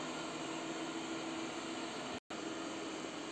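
Ecovacs Deebot N8 robot vacuum cleaner running steadily indoors, a continuous broadband whir with a faint hum, moderately close, briefly cut to silence for an instant near the end, with no talking.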